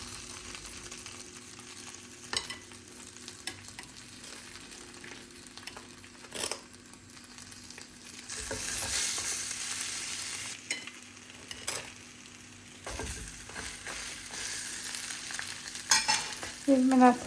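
Slices of bread dipped in beaten egg fry in a pan, a steady soft sizzle with occasional stirring and scraping sounds and louder bursts of frying toward the end.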